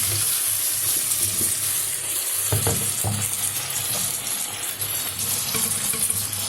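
Tomatoes frying in a hot pan for tomato biryani give a steady, close sizzle throughout, with a few louder bursts and stirring clatter near the middle and no voices.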